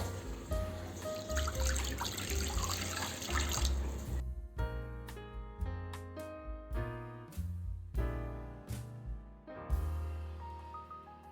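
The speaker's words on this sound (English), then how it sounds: "Add some water." Water pours and splashes noisily into a pan on a gas stove for a few seconds, then stops, leaving a series of clinks and small knocks of cookware.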